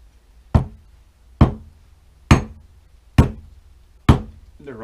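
A hammer drives a steel splitting wedge into hardwood with five sharp, evenly spaced ringing strikes about a second apart, loud and close, each blow decaying quickly before the next.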